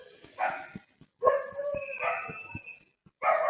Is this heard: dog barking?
yes